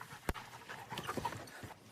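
A drug-sniffing dog pants with quick, breathy huffs close by while it searches, in short irregular bursts over a quiet background.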